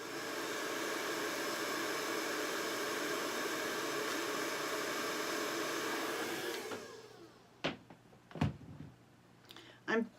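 A blow dryer blows steadily on craft work with a strong close whoosh for about seven seconds, then cuts off, leaving a few soft knocks and handling sounds.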